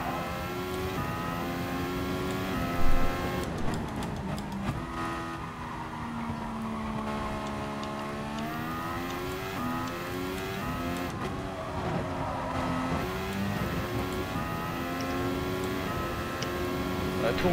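Racing car engine of the SF car at Spa-Francorchamps in GT Sport, a loud sustained high-revving drone rising and falling with gear changes, with a person talking over it throughout.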